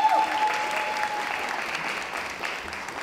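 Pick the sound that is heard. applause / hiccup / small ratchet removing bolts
applause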